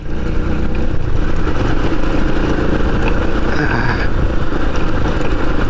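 A Kawasaki KLX motorcycle rides over a rocky village road, its engine a steady, loud broadband rumble throughout, with rough, continuous road and wind noise mixed in and no clear talk.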